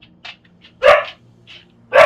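A pet dog barks indoors in short, loud, close bursts, with a few fainter yips between them.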